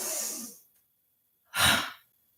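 Two deep breaths during vinyasa yoga: a long, soft exhale fading out, a pause of silence, then a second fuller, louder exhale, close to the mic.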